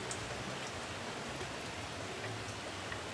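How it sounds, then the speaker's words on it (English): Steady rain falls and patters on surfaces, a constant soft hiss with scattered drops and no voices. "it's been raining for several hours"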